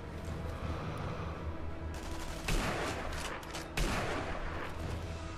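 Gunfire from the Sniper Elite V2 video game on PS3: a steady barrage of shots over dense battle noise, with two louder, close blasts standing out partway through, and no speech.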